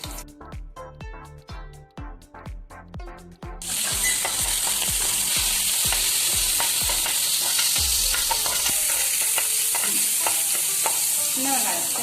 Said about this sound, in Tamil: எண்ணெய் காஞ்சோன்னா கடுகு போட்டு ஒரு காஞ்ச மிளகாய் கிள்ளி போட்டுக்கோங்க.